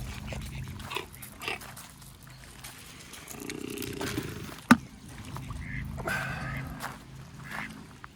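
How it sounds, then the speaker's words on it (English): Call ducks at a lakeside in Doncaster are fed by hand, with intermittent quacking and honking over steady outdoor background noise and a sharp knock near the middle. "Let's get another handful for these call ducks."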